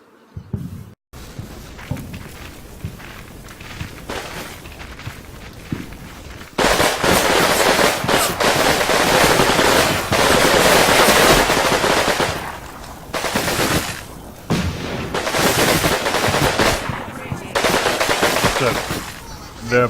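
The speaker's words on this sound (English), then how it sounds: "They have a submachine gun as well." Submachine gun bursts in the video game Combat Mission Red Thunder: loud, sustained rattling fire in long bursts with brief gaps, following a quieter stretch of scattered battle noise and distant shots.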